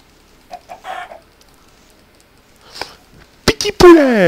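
A Minecraft chicken gives short soft clucks, followed by a loud sharp burst of clucking with a quick hit near the end, heard close and with no talking.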